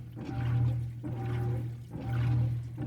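Water rushing into a GE 4.6 washer drum during a deep rinse fill, a steady pouring flow that swells and eases in three surges with a low hum, no talk.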